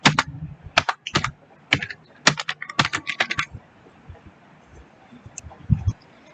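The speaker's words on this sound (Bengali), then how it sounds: "এখানে আমরা বাকি টেক্সটগুলো টাইপ করে নিব।" Bursts of quick, crisp keystrokes on a computer keyboard while entering text into a prompt, clustered in rapid runs with short pauses, close and clear, then fading to quiet room tone.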